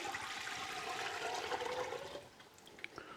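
Strained seafood stock is poured from a container into a cleaned pot, a soft rushing splash of liquid that runs steadily, then thins to a few trickles and drips.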